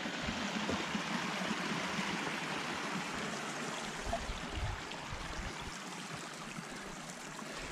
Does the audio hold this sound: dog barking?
no